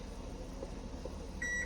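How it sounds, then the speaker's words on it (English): An electric home oven preheating to 425 degrees sends out a steady electronic beep near the end, over a constant broadband background hum. "that's my oven preheating to 425 degrees"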